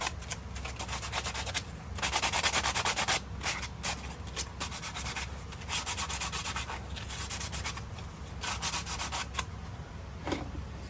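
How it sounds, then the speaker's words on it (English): Sandpaper of 120 grit rubbed back and forth along the edges of a Kydex-style double magazine carrier for an H&K VP9, a steady close scratchy rasp in repeated strokes with brief pauses, no talking. "And then I'll take a piece of sandpaper. This is 120 grit, and then I'm just going to go ahead and clean up the edges a little more"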